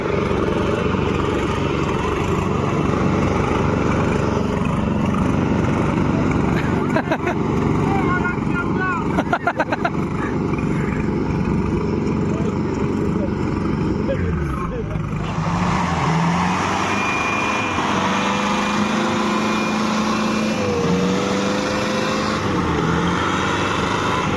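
Tractor engines roaring at a tractor tochan pulling competition, a loud sustained drone with revving and shifting engine pitch, a crowd and voices mixed in.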